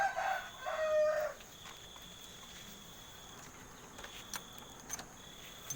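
A rooster crows once, fairly close, then it falls to quiet outdoor ambience with faint insects and a few soft clucks.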